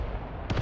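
Artillery gunfire in the World War II video game Mius Front booms as a couple of quick, muffled thuds at the very end, rising out of a low rumbling battlefield bed.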